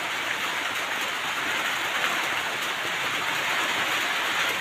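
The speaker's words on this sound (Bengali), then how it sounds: "বাইরে দেখো কনস্ট্যান্ট বৃষ্টি হয়েই যাচ্ছে" Steady, constant rain falls outside a goat farm shed, a dense even hiss of drops on surfaces that holds unbroken throughout with no voices.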